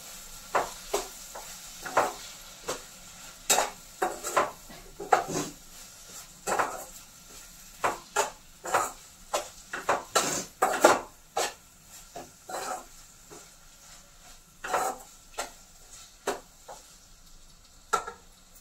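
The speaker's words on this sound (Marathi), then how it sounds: "आणि ते व्यवस्थित असं परतून घ्यायचं म्हणजे मसाला चांगला लागतो" Masala being sautéed and stirred in a pan, with a series of irregular scraping, rasping strokes of a spoon against the pan bottom over a faint low background, close and fairly quiet, no talking.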